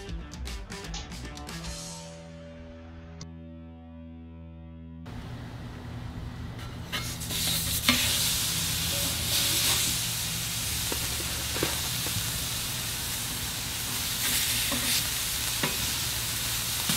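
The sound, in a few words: sirloin burgers sizzling on a ballistic griddle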